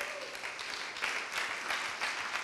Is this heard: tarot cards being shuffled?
no